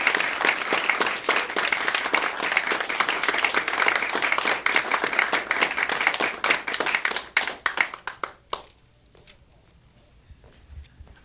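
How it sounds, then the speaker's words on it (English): Audience applause for Mr. Whitney L. White at the Salem Access TV annual meeting, a dense burst of many hands clapping that keeps going for about eight seconds, then thins out into a few scattered claps and fades to a quiet room. "once again for Mr. Whitney L. White, let's hear a round of applause"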